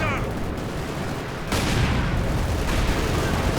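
Light artillery and gunfire in Company of Heroes 2 rumble as a dense, continuous barrage of blasts that grows louder midway, forming a heavy wash of battle noise.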